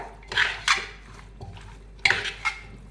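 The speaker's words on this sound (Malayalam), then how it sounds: "ഉപ്പും കൂടി ഇട്ട് കൊടുക്കാമേ എന്നിട്ട് നല്ലവണ്ണം ഒന്ന് മിക്സ് ചെയ്യാം നമുക്ക് നല്ലവണ്ണം ഒന്ന് മിക്സ് ചെയ്യുക" Pork and salt are mixed in a cooking pot, a few sharp utensil clinks and scrapes spread out over a quiet background hum, with no talking.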